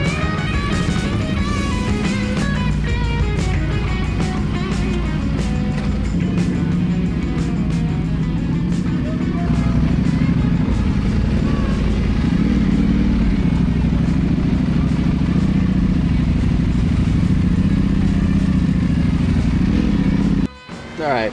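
A 2025 Ducati Panigale V4 S sportbike ridden on the road, its engine droning loud and continuous close to the microphone with shifting pitch as it accelerates, wind rush underneath, then cutting off abruptly near the end.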